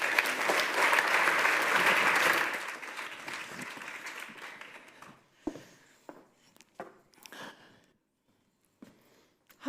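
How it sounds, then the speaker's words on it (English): A demo day audience claps loudly for a startup team, with dense applause for about two seconds that thins out and fades, leaving a few scattered late claps and near silence. "please keep that round of applause going for Jean and Lucy from Terramirror"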